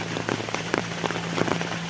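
Rain patters on a surface nearby, scattered drops tapping irregularly over a steady hiss.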